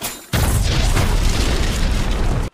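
A sudden loud explosion in the film Death on the Nile, a broad booming blast that erupts after a brief quiet start and roars steadily for about two seconds before cutting off.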